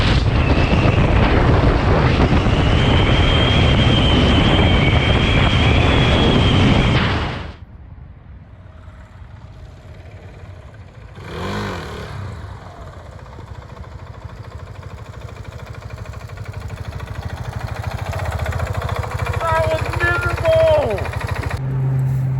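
A KTM Duke 690 motorcycle rides through a New Mexico snow blizzard, with loud roaring wind and engine noise for about seven seconds that then cuts to a quieter low rumble with a faint voice.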